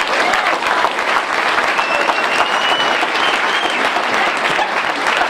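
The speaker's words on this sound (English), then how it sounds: "Do you agree with me? Clap your hands." An audience at a NAACP Martin Luther King Jr. breakfast clapping their hands, a loud, dense and continuous round of applause that fills the room from start to finish.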